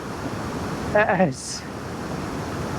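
A waterfall sends a constant broad rush of water throughout, with a brief spoken phrase cutting in partway.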